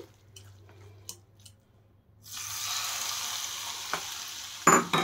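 Mango pickle pieces being stirred together with cooled mustard-style cooking oil in a bowl, a soft, continuous wet mixing and scraping that swells midway, with a few sharper clinks near the end and no talking.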